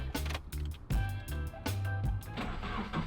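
A turbocharged Subaru BRZ or Toyota FR-S with a loud aftermarket exhaust drones heavily, its deep, steady rumble swelling and pulsing in close, continuous bursts.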